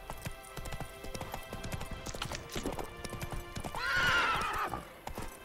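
A horse in The Witcher 3 video game gallops with rapid rhythmic hoofbeats, close and steady, then neighs loudly partway through before the galloping continues.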